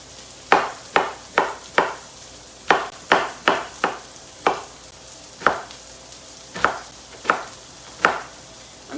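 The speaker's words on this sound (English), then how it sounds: "I'm dicing it because I want it to be, you know, in nice bites" A knife dices zucchini on a cutting board in a string of sharp, close chops in uneven bursts, with no talking.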